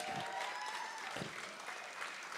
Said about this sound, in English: It never bothers me when he gets the biggest applause of the night